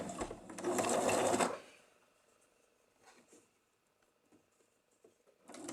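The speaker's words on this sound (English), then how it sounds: "we're going to sew down those two sides" A sewing machine runs in one short, close burst as it stitches two fabric patches together for a four-square patch cushion, then falls quiet to faint handling noises before starting up again at the end.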